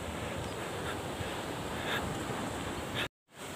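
Ocean waves wash onto a beach in a steady, close surf hiss with wind buffeting the microphone, breaking off abruptly into a brief silence near the end before resuming.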